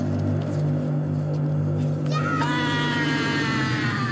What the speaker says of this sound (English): That kid might have the funniest, dumbest scream I've ever heard.